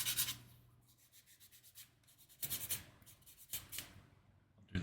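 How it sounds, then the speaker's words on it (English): A sanding stick rubs across the top and bottom of a small wooden piece trimmed to fit a drawer, giving close, dry scratchy strokes in several bursts with short pauses between them. "I'm actually sanding the top and the bottom"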